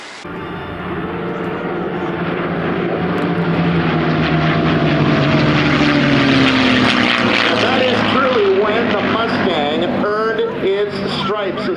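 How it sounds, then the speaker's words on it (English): Loud, rumbling Rolls-Royce Merlin piston engine of a Spitfire roaring steadily up close, its pitch shifting and wavering as the plane maneuvers, with a voice speaking underneath. "the Rolls-Royce Merlin engine"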